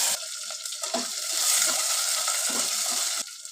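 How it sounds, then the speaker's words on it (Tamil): Mustard seeds, cumin, shallots and curry leaves tempering in hot oil give off a close, crackling sizzle with scattered pops and stirring scrapes. It swells in the middle, then drops off abruptly near the end. No talk. "கடுகு, சீரகம் இது போட்டு தாளிச்சிக்கலாம்"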